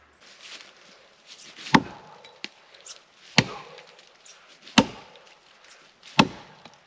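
Sneddens Knockabout axe chopping wood outdoors: four sharp, loud chops spaced about one and a half seconds apart, each a crisp woody crack, with faint rustling and birdlike background between strikes.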